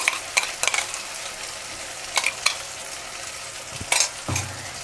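Spoon stirring mutton curry with ginger and garlic in a sizzling pan, a steady frying hiss punctuated by several sharp scrapes and clinks.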